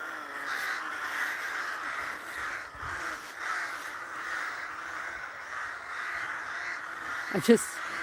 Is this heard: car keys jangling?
no